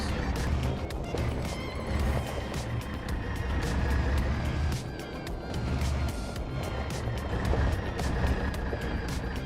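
Rumbling, rattling engine of a vehicle in Farming Simulator 25, running steadily and close throughout with a rough, clattering idle and slight swells in loudness.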